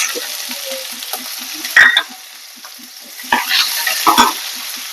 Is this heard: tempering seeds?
yes